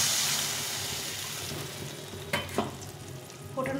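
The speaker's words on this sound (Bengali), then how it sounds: "এই জলটা দিয়ে দিই।" Boiled water is poured into a hot curry pan, setting off a loud sizzle that fades, with a few sharp splashes and scrapes toward the end; no one speaks.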